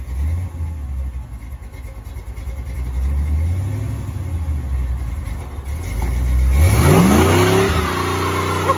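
A 1955 Ford F100 pickup doing a burnout rumbles at a low idle, then revs hard as the engine pitch climbs sharply and the roar swells loud and rough near the end.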